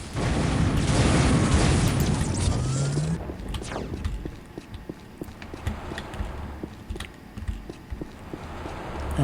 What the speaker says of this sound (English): the QSG, Quantum Singularity Generator. Primary fire makes black holes